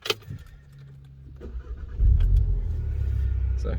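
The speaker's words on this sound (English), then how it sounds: "I'm just trying to balance starting the car and getting a good angle." Keys jangle, then a Volkswagen GTI with an aftermarket exhaust cranks and fires about halfway through, settling into a low, steady, moderately quiet idle close by.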